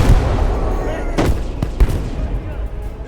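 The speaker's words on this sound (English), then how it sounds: "Enemy artillery!" Artillery fire in the World War II game Gates of Hell sounds as a few heavy booms in quick succession over a dense, rumbling battlefield din.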